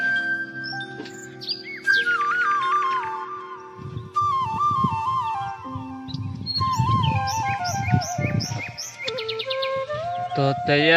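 A flock of birds chirps and whistles in bright, rapid overlapping calls during rainy weather, close and lively, with a low rumble of outdoor activity underneath.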